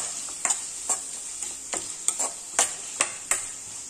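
Coriander stems and leaves sautéed in a pan, a faint background sizzle punctuated by sharp, regular spatula taps and scrapes roughly every half second, nearby and without voices.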